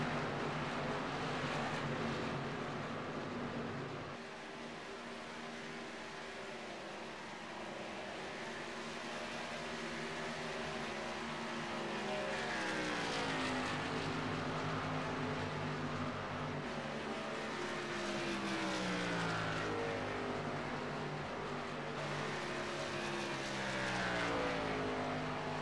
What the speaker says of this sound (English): we're just going to let the cars go around and let you guys listen to them here for a minute.